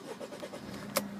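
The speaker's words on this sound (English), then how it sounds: "if we just get the car started" A Mercedes-Benz C220 CDI Avantgarde diesel car cranks briefly with a whirring starter, then catches near the end with a sharp burst as the engine fires, close and moderately loud.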